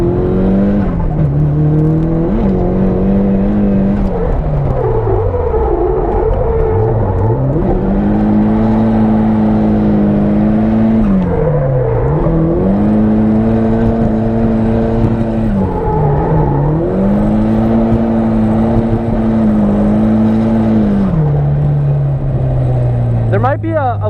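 A Nissan S13 pulls hard, its engine note climbing and falling through repeated surges as the revs swing up and back down, loud and close throughout, with voices talking over the drive.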